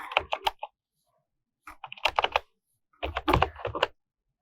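Quick bursts of typing on a computer keyboard, close and crisp, coming in three short clusters with silent pauses between them while a file is being renamed.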